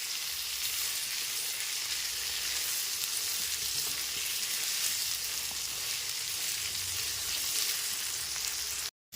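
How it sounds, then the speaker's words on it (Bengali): Pointed gourd (potol) pieces fry in hot oil over a medium gas flame, giving a steady, loud, continuous sizzle that runs unbroken before cutting off abruptly at the end. "গ্যাসের ফ্লেমটা মিডিয়ামে রেখে পটলগুলোকে লাল করে ভেজে নিতে হবে"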